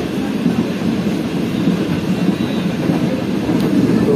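Interior of the moving Karachi Express, a steady low rumble and rolling drone from the carriage, loud and continuous with faint rattles.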